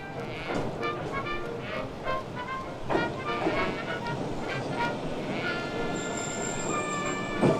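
A narrow-gauge train in Japan rumbles in steadily with clanking wheels, a few sharp metallic knocks and a high squeal near the end, voices faint in the background.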